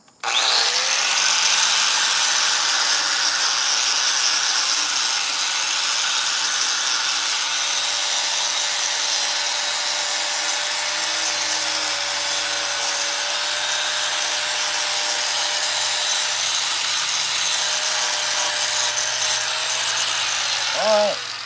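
A chainsaw carves into a pumpkin, its engine whining at a steady high pitch nearly without a break, loud and close, with the cutting continuing evenly before the motor drops off at the end.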